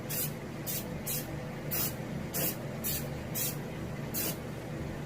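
Short bursts of spray paint hiss close by as the fin of a striped bass mount is highlighted. The bursts come in a steady series of about eight quick puffs, with no talking.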